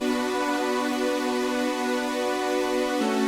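A dry, unprocessed retro analog synth holds a steady, sustained chord at a constant loud level, with a brief change in pitch near the end.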